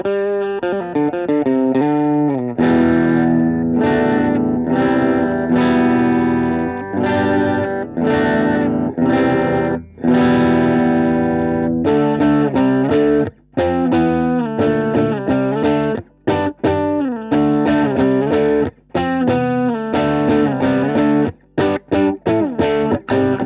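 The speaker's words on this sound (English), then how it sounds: "let's check the bridge pickup." Electric guitar played through a miked tube amplifier on the bridge pickup, a continuous riff of bright, sustained chords and single notes with short choppy stops, loud and close with some effects coloring the tone.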